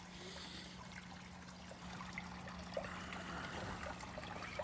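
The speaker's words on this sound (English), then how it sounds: "There's the waterfall that I built last year." Water trickles steadily down a self-built backyard pond waterfall, a soft continuous splashing wash with faint droplet accents, heard from a short distance over a low steady hum, with no speech.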